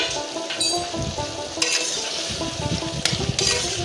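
Boiled bottle gourd with salt and turmeric is stirred in a hot pan: a continuous close sizzle with repeated scraping strokes of a spoon against the metal and occasional clinks, no talking.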